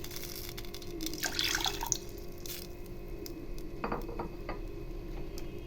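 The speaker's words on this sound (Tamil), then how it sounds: "ஒரு ரெண்டு கப்பு தண்ணி ஊற்றுங்க கரெக்டாக இருக்கும்" Water sloshing and trickling into a pan nearby, with a few splashy bursts and drips, steady throughout and no talking.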